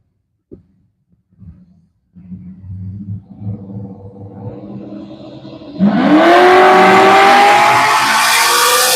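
Drag racing at U.S. 131 Motorsports Park, including a 1970 Chevelle: low idling rumble builds, then a loud engine launch and hard acceleration roar with rising pitch, sustained and close.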